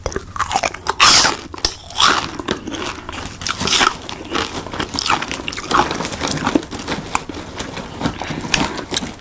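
Cracker Jack caramel-coated popcorn being eaten close up, with loud, irregular crunches and chewing that carry on steadily throughout, no talking.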